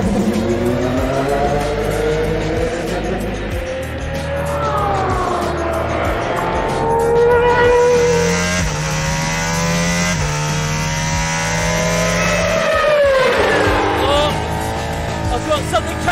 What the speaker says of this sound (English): I sent Ollie out in the regular Valkyrie and then gave chase.